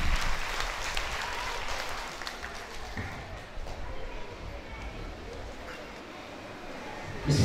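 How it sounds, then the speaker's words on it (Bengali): An audience at a kindergarten association results ceremony in Dhaka claps for the chief guest, a broad wash of applause that tapers off, with a voice over a loudspeaker faintly underneath. "সবাই জোরে একটা করতালি,"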